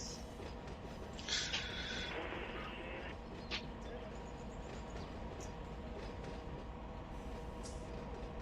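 A freight train in the Run8 train simulator rolls past with a steady low rumble and faint rail clatter, joined by a few brief squeals and clanks.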